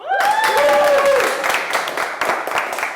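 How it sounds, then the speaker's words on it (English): Live studio audience in New York City breaking into applause and cheering at the start of a wine tasting show, a dense burst of clapping opening loudly, with a whistle-like tone at first and a faint voice, tapering slightly. "Clap it up."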